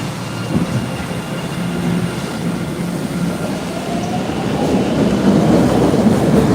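A Red Line subway train pulls into Downtown Crossing station in Boston, a loud, close rumble of wheels on rail that builds steadily, with a faint rising squeal as it nears the platform and no talk.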